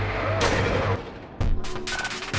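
Booming shotgun blasts from a video game, several loud bursts with sharp onsets separated by short gaps, heavy low-end thumps and ringing decay, very loud and close.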